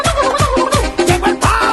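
A turkey gobble worked into a Latin pop song, repeated several times over a loud, steady beat with sung vocals and music throughout.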